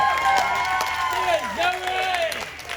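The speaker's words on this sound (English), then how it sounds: "That's applause for you, my love. We're clapping for you." An audience on a Carnival cruise ship applauding and clapping, a steady wash of claps with cheering voices rising and falling throughout.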